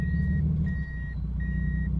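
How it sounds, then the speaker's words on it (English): Reverse warning beeps from an automatic Toyota Supra MK4, three evenly spaced steady tones sounding clearly over a low, constant engine rumble. "When you put the car into reverse, the automatic makes this noise."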